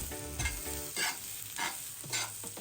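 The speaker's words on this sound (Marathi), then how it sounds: "अद्रक घेतला आहे ते पण तेलामध्ये मी चांगलं भाजून घेणार आहे" Ginger and garlic frying in hot oil, a steady close sizzle broken by three or four scraping stirs of a spoon in the pan.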